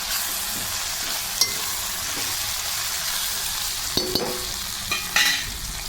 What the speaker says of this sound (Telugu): ఇప్పుడు వేయించి పెట్టుకున్నటువంటి గడ్డి చేప ముక్కలు ఇందులో వేసి కలుపుకోవాలి